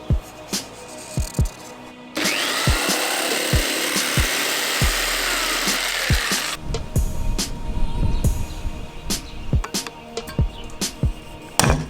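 Power tool cutting a hole in the roof of a Renault Master van, a loud harsh buzzing cut lasting about four seconds amid sharp knocks and clatter, followed by scraping and handling noises nearby.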